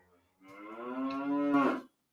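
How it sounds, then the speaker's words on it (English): A cow moos loudly and close, one sustained, rising bellow that swells toward the end, alone against silence. "My cow!"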